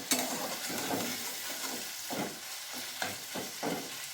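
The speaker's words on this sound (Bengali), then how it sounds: "এই মশলাটা নেড়ে চেড়ে নেওয়া হচ্ছে।" Spice paste with crushed green chilli is stirred in a hot pan while preparing cabbage with prawns, giving a steady soft sizzle with repeated scraping strokes of a spatula, fairly quiet and close, with no voices.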